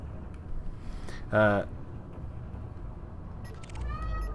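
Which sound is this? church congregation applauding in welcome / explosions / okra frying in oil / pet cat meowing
pet cat meowing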